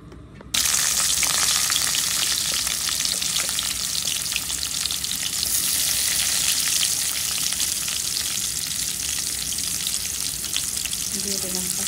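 Oil sizzles and fries steadily in a pan while a kachki fish chorchori is being cooked, a loud, continuous hissing crackle that starts abruptly and holds up close throughout.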